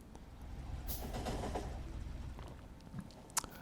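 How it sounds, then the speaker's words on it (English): A train rolling along in the Factorio video game, a low steady rumble with a faint mechanical hum and a brief higher clank near the end, quiet and continuous. "the train will go there by itself"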